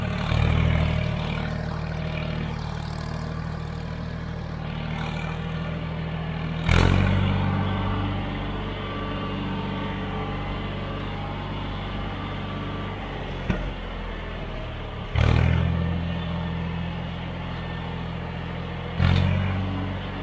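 A tractor engine in third gear drives downhill, giving a steady, loud low rumble with a few sharp knocks and thumps along the way.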